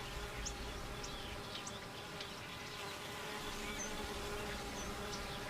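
Honey bees buzz in a steady, dense drone that holds without a break, quiet and even throughout.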